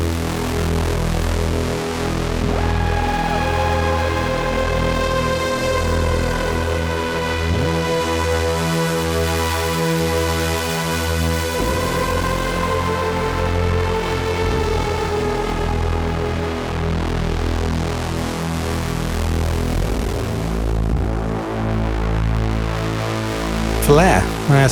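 A cinematic synth with tube distortion, drive, delay and reverb holds sustained droning chords and gliding tones, thick and buzzing, shifting to a new chord partway through and trailing into a long reverberant wash.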